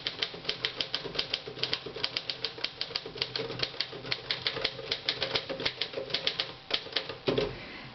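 Mechanical typewriter keys clatter in a fast, steady run of sharp strikes, close and clear, with a brief heavier clunk near the end like a carriage or key jam, and no talking.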